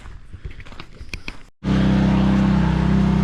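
An Amazon sandblaster cleaning a frame: light clattering first, then after a short gap a sudden loud, steady hissing roar of abrasive blasting that continues close and unbroken.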